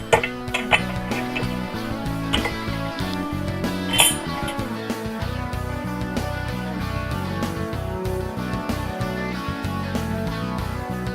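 Metal parts clink and tap sharply up close against a quiet background while a brake disc is fitted onto the rear wheel of a BMW F800GS motorcycle, with scattered knocks and small metallic rings.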